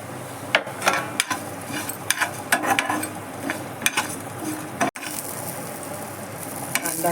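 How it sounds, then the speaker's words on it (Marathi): Onion, garlic and other ingredients frying in coconut oil for a Mangalorean chicken gravy, a steady sizzle broken by repeated sharp scrapes and clinks of a spatula against the pan. "आता यात सगळं कांदा बिंदा लसूण सगळं टाकून घेतलेलं आहे, सगळं भाजून घेते"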